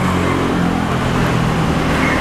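Motorcycle engine idling and revving at low RPM during CDI tuning, a steady close mechanical drone with a slight rise in pitch near the end.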